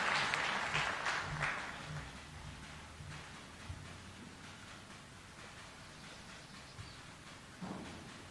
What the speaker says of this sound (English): Let us welcome her with a warm clap, kindly.